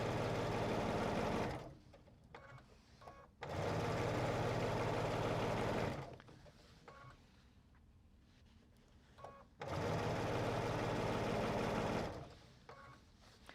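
A sewing machine stitches fabric strip seams in three long runs of steady motor whir, each lasting a couple of seconds, with quiet pauses between them and no talking.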